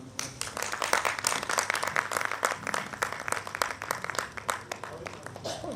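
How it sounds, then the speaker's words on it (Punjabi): Audience at a book release breaking into applause, dense rapid clapping from a crowd that holds steady throughout, with a voice talking over it. "ਇੱਕ ਵਾਰ ਤਾੜੀਆਂ।"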